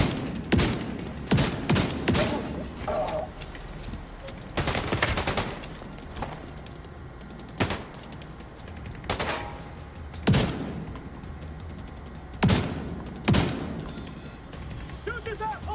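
Gunfire in the shooter game Tom Clancy's The Division 2: sharp, loud shots crack out in irregular bursts and single reports across the scene, with voices shouting between them.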